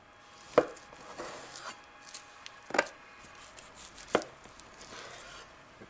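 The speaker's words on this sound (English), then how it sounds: "Simply slice through the tenderloin in one clean motion." A knife slices through beef tenderloin on a cutting board while steaks are portioned. A few sharp, isolated cuts land close, separated by quiet gaps, with no talking.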